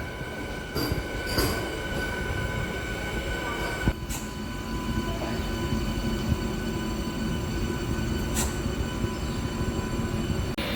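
A MEMU passenger train from Rajahmundry to Bhimavaram rolls along with a constant loud rumble from inside the carriage, punctuated by sharp wheel clacks and brief squeals.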